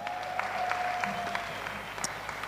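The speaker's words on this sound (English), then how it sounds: "I want to ask you to give yourselves a round of applause." Church Christmas event audience giving themselves a round of applause, a soft, fairly distant patter of clapping lasting a couple of seconds.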